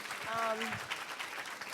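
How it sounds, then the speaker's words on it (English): An audience claps for the Project Aspire finalists at a grand final event, a moderately quiet, steady patter of applause with a brief voice sounding over the start. "Another round of applause, please, for our Project Aspire finalists."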